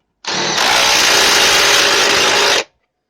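A LIDL 20-volt cordless impact wrench tightening a bolt, one loud, close, continuous mechanical whirr lasting about two seconds and then cutting off, with no talk.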